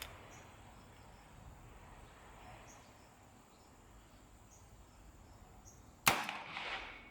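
A Colt Trooper Mark 3 revolver fires a sharp, loud double-action shot with a brief ringing tail near the end, after a long quiet stretch of faint outdoor ambience at a shooting range.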